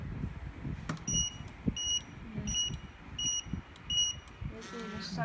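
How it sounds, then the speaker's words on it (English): Cardot two-way motorcycle alarm in shock-alarm mode with the siren muted, giving five evenly spaced short electronic beeps about one per second over low handling and rumbling noise. "This is the shock alarm."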